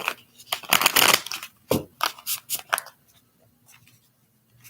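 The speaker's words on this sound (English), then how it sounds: "They want 3 shuffles on the table for this." Tarot cards are shuffled on a table in several quick riffling bursts with sharp crisp snaps, close and fairly loud, then fading to near silence.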